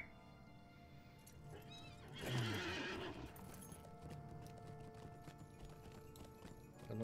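A horse in the Lord of the Rings Online game gives a loud, shrill whinny lasting about a second, set against faint background ambience and scattered clip-clop hoof sounds.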